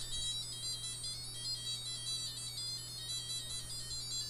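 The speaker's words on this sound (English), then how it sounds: "the buzzer is going to play sounds that the microphone is going to pick up" Buzzer on an Adafruit Circuit Playground board caught in a feedback loop with its own microphone, giving a faint, steady high-pitched electronic tone that wavers slightly over a low constant hum, with no talking.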